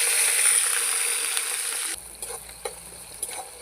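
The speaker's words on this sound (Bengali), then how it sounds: "কাঁচা লঙ্কা পেঁয়াজটা দিয়ে দিলাম তেলের উপরে।" Green chilies and onion hit hot oil with a bright, loud sizzle for about two seconds, then it drops to a softer crackle with a few sharp spatters and stirring knocks.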